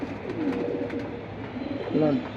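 Beige silver pigeons kept for sale coo in low, rolling phrases close at hand, with a person talking over them.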